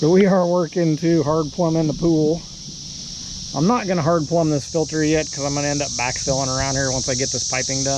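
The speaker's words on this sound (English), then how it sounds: "Alright guys, we got the song of the cicadas." Cicadas in the trees beside a pool under renovation in mid-May keep up a steady, shrill, high-pitched drone, unbroken for the whole stretch while someone talks over it.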